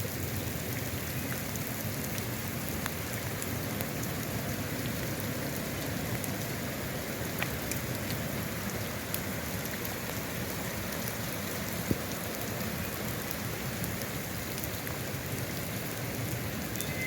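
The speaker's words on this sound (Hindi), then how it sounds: "बारिश हो रही बहुत ज़्यादा।" Heavy rain mixed with hail pouring down in Islamabad, a dense, steady hiss of drops drumming on surfaces with occasional sharper ticks of hailstones, continuous and close with no voices.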